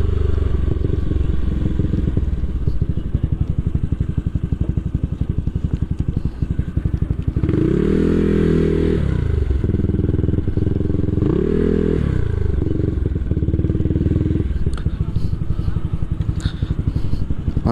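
Bored-up Honda PCX 160 scooter engine running steadily through its exhaust, a continuous close drone with two brief rises in pitch where the throttle is blipped before settling back to a smooth, even tone.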